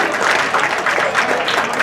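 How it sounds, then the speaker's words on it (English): An audience claps in a steady, dense burst of applause, filling a hall evenly for a couple of seconds with no pauses. "Let's give him a round of applause."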